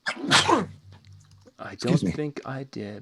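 A single short burst of a person sneezing at the start, fairly loud and close, followed by someone speaking.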